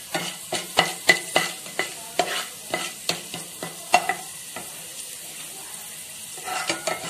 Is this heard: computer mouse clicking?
no